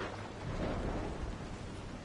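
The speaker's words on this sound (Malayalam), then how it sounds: "പുറത്ത് നല്ല മഴയാണെന്ന് തോന്നുന്നു." Rain and a low thunder rumble outside in the horror video game Resident Evil 7, a steady soft wash of rainfall with a deep roll swelling briefly, faint and distant.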